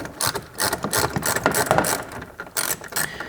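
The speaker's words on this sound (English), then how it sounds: "I'm taking off the other screw that we need to remove" A hand ratchet works a screw loose from the front bumper of a Porsche 981 GT4 in a home garage, rapid clicking strokes repeating close to the microphone with brief pauses.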